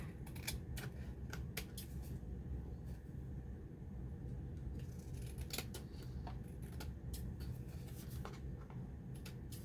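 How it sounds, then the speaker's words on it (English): Scissors trimming a small handmade Christmas tag, with a series of quick, crisp snips spread irregularly across a faint, steady low background hum, close to the ear and without talking. "I think I have to trim a whisker off here."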